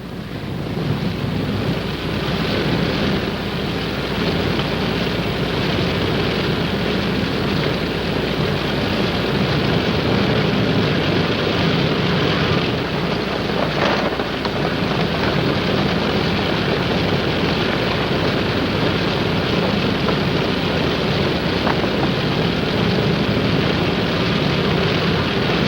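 Propeller airplane carrying wartime casualties out from a reservoir in Korea in 1951, a loud continuous droning roar that holds steady throughout with no talk, rough and grainy like an old film recording.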